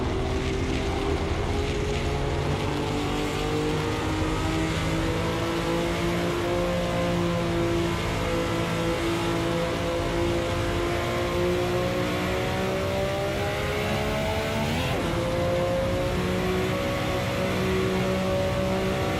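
A Ferrari race car in the Assetto Corsa racing game runs with a loud, continuous engine drone, its pitch climbing and shifting as it revs through the gears, with no talking over it.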